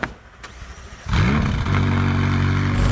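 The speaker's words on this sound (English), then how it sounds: "This is gonna turn on that twin-turbo V8 engine. Let's check out what that sounds like now." A brief click, then the twin-turbo V8 engine of a McLaren 570S Spider cranks and fires up about a second in, settling into a loud, rumbling idle.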